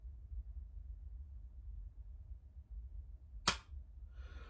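A pistol trigger snaps once with a sharp, crisp click during dry fire practice against a quiet room hum, followed by a softer faint rustle.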